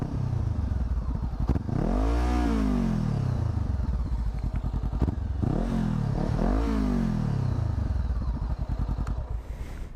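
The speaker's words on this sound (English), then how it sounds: "I'll do a few little revs for you" A Honda CBR500R motorcycle engine idles, then is revved several times, each rev climbing in pitch and falling back, close and loud.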